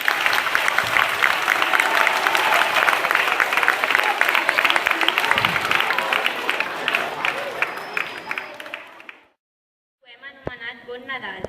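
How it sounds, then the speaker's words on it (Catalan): A school Christmas festival audience applauding in memory of Leonard Cohen, dense sustained clapping from many hands for about nine seconds, then a sudden cut to silence followed by a brief voice speaking. "Li fem un aplaudiment a Leonard Cohen."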